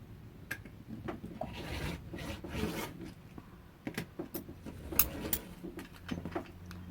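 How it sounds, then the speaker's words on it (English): A rotary cutter slices quilting fabric along a ruler edge, making repeated close rasping and scraping strokes in short, uneven bursts with brief pauses between passes. "we're going to be cutting along this edge of the ruler"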